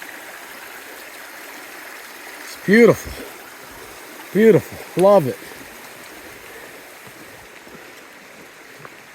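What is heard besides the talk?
river flowing at a trail river crossing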